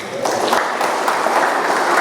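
A church congregation claps together in a dense, steady burst of applause, fairly loud and continuous with a slight reverberant room sound.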